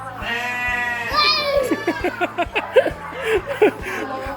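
Sheep bleat repeatedly at a zoo in Ayutthaya, several wavering calls in quick succession, fairly close and loud, with a voice and chuckling mixed in.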